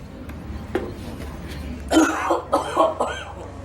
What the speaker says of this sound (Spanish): Vamos a toser fuertemente y la flema que despeguemos desde los pulmones, esa va a ser la que vamos a dar la muestra.